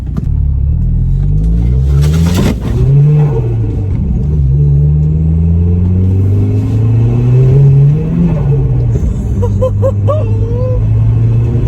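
A loud modified Vauxhall Astra VXR van engine rumbles up close and revs through rising and falling pitch as the van drives, with some road and wind noise.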